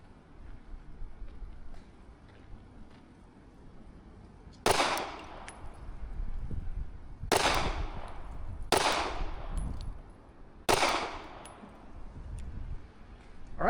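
Four pistol shots from a handgun fitted with an NY2 trigger at a shooting range, loud sharp cracks with ringing decay, the first alone and the last three coming in a slower, uneven sequence with pauses between, over faint background noise.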